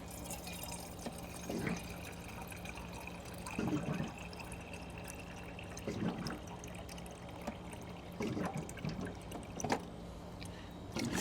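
Water pours and trickles into a cooking pot in several short, faint splashing bursts spaced a couple of seconds apart over quiet kitchen background.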